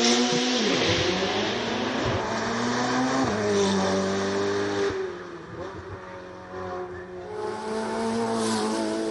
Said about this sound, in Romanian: îl numim aici pe reprezentantul Canova Racing, Radu Benea, și al său Ferrari 488 Challenge Evolution.